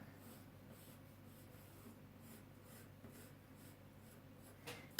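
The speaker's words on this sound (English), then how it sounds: "Go ahead, sketch in my circle." A pencil sketches a circle on paper with soft, continuous scratchy strokes, close and quiet, ending in a brief louder rub.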